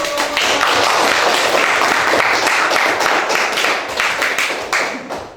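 A classroom of students applauding, dense steady clapping from many hands close by that holds loudly for several seconds and then thins out toward the end.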